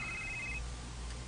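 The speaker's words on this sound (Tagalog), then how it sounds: "Ito bagas na yung cellphone, oh." A cellphone ringing indoors in a drama scene, a steady electronic ring tone that sounds for about half a second and then stops, with no talk over it.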